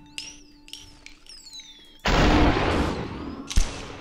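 A gunshot goes off in the Superhot prototype, a sudden loud blast after a quiet stretch of electronic chirps and tones, followed by a fading rumble and a second sharp burst.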